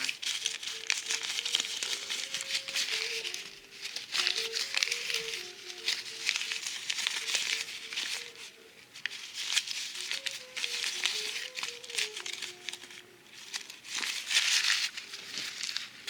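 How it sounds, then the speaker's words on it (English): Paper scrawled with jokes crumpled by hand, a continuous dense crinkling and crackling that runs throughout at close range, with a faint steady melodic tone underneath. "I crumple up all my jokes because I don't want to use them anymore."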